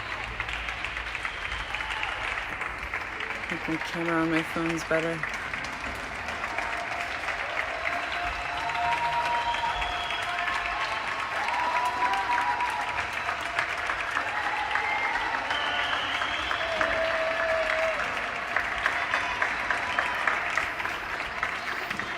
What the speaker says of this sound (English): They're clapping for all the medical workers and all the people that are helping out with the crisis right now.